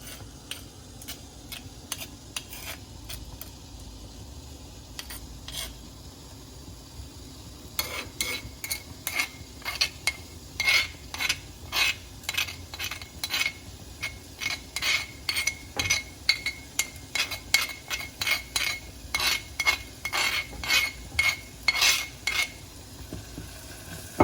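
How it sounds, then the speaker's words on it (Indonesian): Ground chili paste being stir-fried in a pan as the broth base for bakso aci, with a soft steady sizzle under rhythmic, repeated spatula scrapes and taps that grow denser and louder partway through, no talk. "Ini kita tumis bumbu cabenya yang tadi kita ulek."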